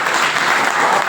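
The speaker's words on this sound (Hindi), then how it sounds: "जोरदार ताली" Applause from an audience welcoming an expert speaker at a horticulture training centre event, a dense, steady burst of clapping that fills the whole short moment.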